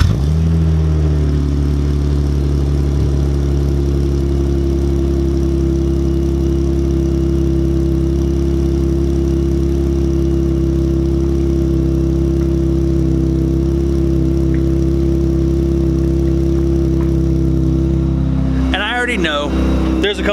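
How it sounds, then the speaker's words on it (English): A car's cold start settles into a steady, loud, deep idle through an AFE catless exhaust pipe, a continuous low droning rumble that holds evenly until a brief rustling disturbance near the end. "Everybody keeps continually asking me about how the AFE catless pipe sound."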